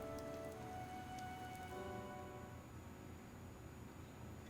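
Heavy rain in the game Fire Emblem: Three Houses makes a steady, dense hiss of drops striking surfaces, faint overall with quiet sustained tones lying under it and no voices.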